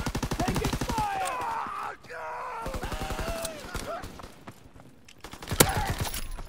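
Call of Duty: WWII multiplayer gunfire rattles in rapid automatic bursts, loud and close, with short pauses between volleys and game voices and groans mixed in.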